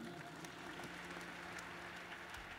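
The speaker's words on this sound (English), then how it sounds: "Clap for Jesus Christ" A church congregation claps at a mass prayer service, a steady wash of applause held at a fairly low, distant level throughout.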